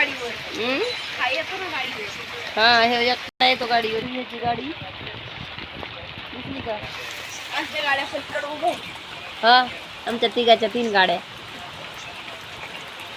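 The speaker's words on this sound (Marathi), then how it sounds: "पाऊस आता वाढण वाटतंय" Steady rain patters in the background while people talk over it at close range.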